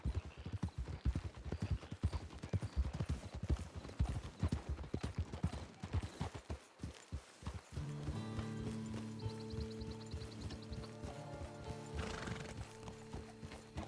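Horse hooves clip-clop at a steady trot in the Western game Red Dead Online, loud and close, then the horse neighs as the riding slows and music and ambient game sounds take over.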